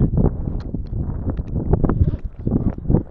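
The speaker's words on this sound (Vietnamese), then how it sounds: "Gió mạnh quá," Strong wind gusts across the shore of Loch Lomond in Scotland, buffeting the microphone in loud irregular rumbling bursts that rise and fall throughout.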